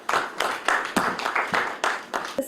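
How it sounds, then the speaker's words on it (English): Audience applause at a building-materials panel discussion in Chennai, with rhythmic bursts of clapping from a seated crowd rising and falling in several waves, fairly close and steady throughout. "I request all of you to please give a big round of applause for them."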